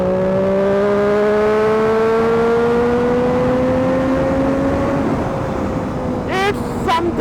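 A Triumph Daytona 675 sport bike accelerates hard as the throttle is opened, its engine note climbing steadily and loudly in pitch before a brief shift late in the run.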